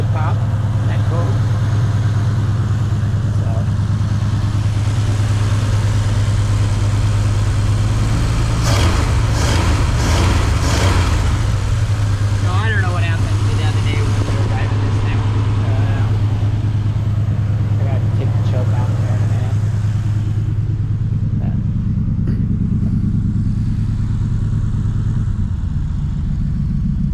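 A hot rod car engine runs and settles into a steady idle, a loud, constant low rumble close by with a brief rise in revs partway through; someone talks over it.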